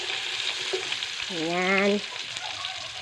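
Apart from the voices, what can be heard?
food sizzling as it goes into a hot pan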